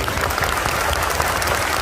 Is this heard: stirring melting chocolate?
no